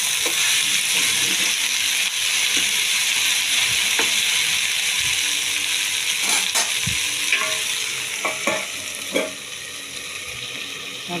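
Chopped, freshly washed okra fries on low heat in a pan, with a steady close sizzle and crackle throughout. Scraping stirs and a few clinks of a utensil against the pan stand out toward the end.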